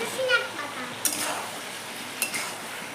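Soft sizzling from potatoes frying in a pan, with a few stirring scrapes and a couple of sharp clinks of a utensil against metal.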